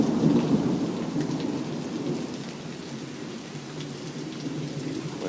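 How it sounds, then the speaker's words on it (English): Morning thunderstorm with steady rain pouring down and low thunder rumbling throughout, loud and close, with no voices. "Storm is really nice."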